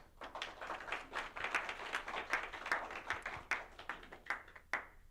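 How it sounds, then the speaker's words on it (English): Audience applause at a tournament, a scattered round of hand clapping from a modest crowd, fairly faint and uneven, with no talking over it. "Give him a big round of applause"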